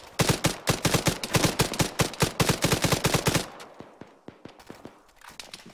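Rapid gunfire from the ArmA 3 shooter game in a PvP mission, a dense string of sharp, evenly spaced shots for about three and a half seconds, then a few scattered quieter shots and thuds.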